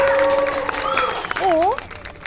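A fan-meeting crowd claps and cheers in a steady wash of applause, with a few voices calling out over it before the noise drops off.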